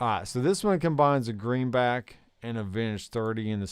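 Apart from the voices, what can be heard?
No everyday noises stand out.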